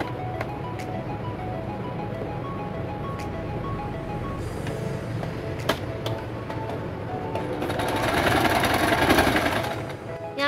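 A sewing machine runs stitches along the sides of a homemade cotton mask, a rapid mechanical whirring chatter with brief pauses that grows louder and denser toward the end.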